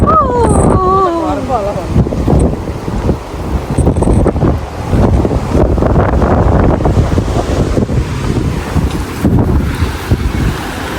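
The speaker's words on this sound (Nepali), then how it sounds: "कस्तो हावा चलिरहेको छ नि अबै हावा किन चल्छ यति धेरै" Strong wind sweeps across Memorial Park in Newcastle, roaring and buffeting the microphone loudly and without a break, with a brief voice near the start.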